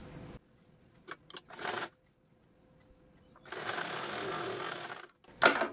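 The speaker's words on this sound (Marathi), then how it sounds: "तर चला मी डबल फोल्ड करून स्टिच करून घेते।" Sewing machine stitching double-folded fabric, running in short bursts of rapid whirring separated by quiet pauses, with one longer steady run near the end, close and clear, no talk.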